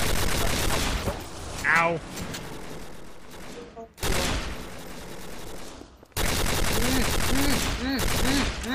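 Rapid bursts of gunfire in the Garry's Mod Gun Game mode, dense crackling volleys broken by short pauses, loud and close, with people talking and yelling over the shots.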